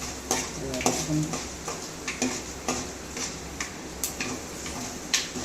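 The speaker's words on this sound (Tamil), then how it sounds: "வெந்தயமும் உளுத்தம்பருப்பும் கொஞ்சம் பொன்னிறமாக வர வரைக்கும்" Fenugreek seeds and urad dal fry in oil in a pan while a spoon scrapes and taps against the metal at irregular intervals over a soft, steady sizzle.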